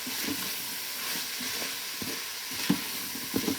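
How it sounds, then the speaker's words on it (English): Steady sizzling from a pot of Bolognese sauce with intermittent scraping knocks of a spoon stirring, close up and fairly quiet, no voices. "And we need to just keep stirring it."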